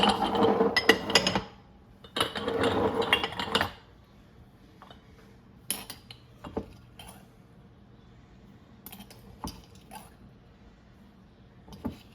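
A teaspoon of salt going into small glass canning jars while pressure canning carrots: close, brief scraping pours, then sparse light clinks and taps against the glass in a quiet room.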